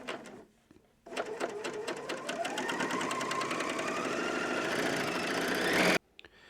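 A sewing machine stitches tape onto a knitted hoodie in a fast, even run of needle strokes, starting after a short pause and stopping cleanly near the end, close and steady with no talk.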